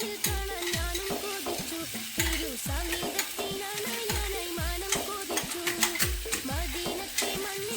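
Sliced onions sautéing in a pan for beef masala, a continuous close frying hiss broken by regular, rhythmic scrapes and knocks of a spoon stirring against the pan.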